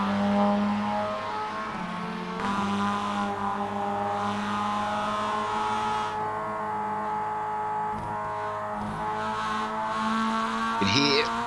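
A roadster race car engine at Road America in iRacing holds a steady tonal drone on partial throttle, its pitch shifting slightly as it runs, with a brief dip and a rise near the end.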